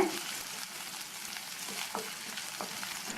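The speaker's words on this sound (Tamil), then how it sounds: "வெங்காயத்தை லைட்டாக மட்டும் இந்த மாதிரி வதக்கி விட்டுட்டு" Sliced onion and garlic sauté in a pan with a soft, continuous sizzle and occasional light stirring scrapes, heard close but at low volume.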